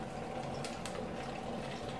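Liquid poured gently through a funnel into a plastic freezer pop sleeve, a steady close trickle and splash running throughout without talk.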